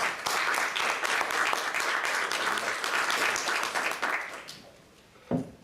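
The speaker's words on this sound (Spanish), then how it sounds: "les pido que le brindemos un gran aplauso a Magdalena." An audience at an international history seminar gives a speaker warm applause, dense clapping that holds steady, then fades out near the end, with a brief knock just after.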